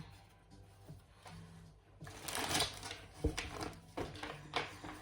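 Tarot cards being shuffled by hand, a soft riffling and rustling in close, quiet bursts, with a louder flurry in the second half and no talk over it.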